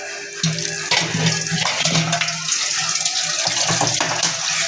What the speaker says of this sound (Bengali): নুডলসটা ভালো করে পানি দিয়ে ধুয়ে নিতে হবে।